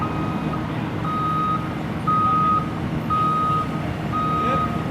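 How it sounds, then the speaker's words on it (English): A dirt truck reversing on a Los Angeles construction site sounds its backup alarm: four evenly spaced beeps over a loud, steady engine rumble. "Another dirt truck's leaving"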